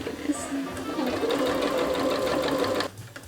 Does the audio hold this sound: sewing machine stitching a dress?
yes